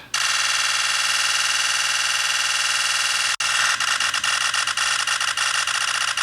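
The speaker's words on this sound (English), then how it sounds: "So now let's do the 10-second burst test." Nikon Z8 mirrorless camera firing a 10-second continuous burst, a dense, steady high-pitched buzzing whir of rapid shutter cycles running nearly unbroken, with a brief dropout partway before resuming slightly rougher.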